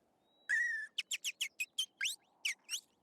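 Several birds chirping and whistling in a cartoon scene, a long rising whistle followed by a quick series of bright, separate chirps, clear and close with no talk over them.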